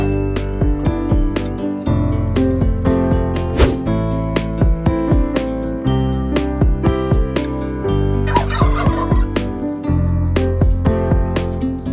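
Turkeys kept on an Indonesian farm gobble repeatedly in sharp, rapid bursts, several birds calling close by over a continuous tonal backing.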